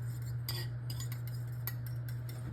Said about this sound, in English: go ahead and pour that, mix it together